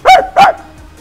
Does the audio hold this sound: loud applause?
no